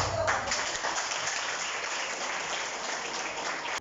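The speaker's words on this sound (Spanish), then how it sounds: "aplauso." An audience at a school Independence Day event applauds, a dense, fairly loud wash of clapping that holds steady for nearly four seconds before cutting off abruptly.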